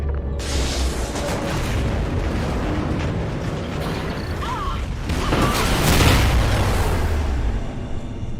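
A massive detonation as a space station is scuttled, a loud rolling boom with rumbling and mechanical rattling that swells and sustains for several seconds, with voices faintly underneath.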